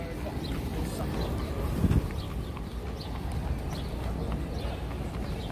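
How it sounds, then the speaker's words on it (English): Horse carriage hooves clip-clop on a New York street, a steady light rhythm under busy city traffic noise and distant voices. "I don't know how far they take them on horse carriage,"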